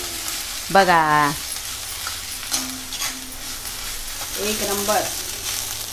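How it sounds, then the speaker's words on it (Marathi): Grated coconut being sautéed with sheglachi (drumstick) bhaji in a pan, a steady soft sizzle and stirring under a woman's short remarks in Marathi. "खोबरा का टाकून मी 2 मिनिटं परतून घेतलंय"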